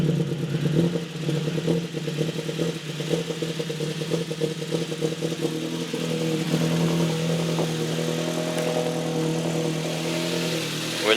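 Ford Focus RS engine, just fitted with a new battery after a loose terminal, cranks and catches, then settles into a loud, steady mid-pitched idle with a slight rise in revs near the end, close to the microphone.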